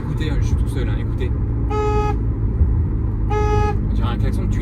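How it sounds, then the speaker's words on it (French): A McLaren Artura's horn gives two short, bright, high-pitched honks about a second and a half apart, close and loud over a low car and road rumble with voices in the background. "J'ai klaxonné un petit coup et le klaxon il m'a choqué tellement il est bizarre."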